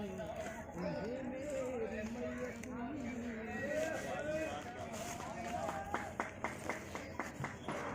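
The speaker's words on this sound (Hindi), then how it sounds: "अभी अभी आपने तालियों की आवाज़ सुनी होगी" A group of men claps at a fair, a short run of sharp, fairly even claps rising near the end after a stretch of crowd chatter and voices in the background.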